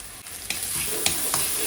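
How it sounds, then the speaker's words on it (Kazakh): Onion frying in a pan with salt and black pepper added: a steady hiss of hot oil broken by a few brief stirring clicks. "Осылай қызартып қуырып аламыз."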